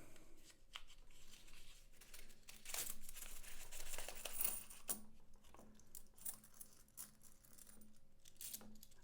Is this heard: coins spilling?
yes